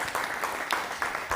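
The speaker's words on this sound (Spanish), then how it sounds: "Y ese aplauso es para el Señor." A church congregation claps steadily and continuously at a Spanish-language service, the dense applause holding moderately loud throughout with a few louder accents.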